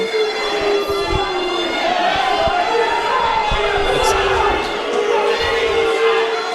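Dense arena crowd noise at a pro wrestling match during a two-out-of-three-falls bout, a steady roar of shouting and jeering aimed at wrestler T.K. O'Ryan, continuous and loud throughout.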